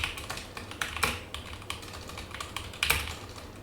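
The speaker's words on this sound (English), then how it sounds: "excuse me for my typing." Rapid clicking of a computer keyboard being typed on close by, irregular keystrokes with a few heavier taps.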